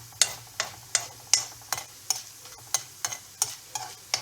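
Dried red chillies and asafoetida fry in hot oil in a pan, with a steady sizzle beneath a regular, close tapping of a spoon stirring, roughly two or three strokes per second.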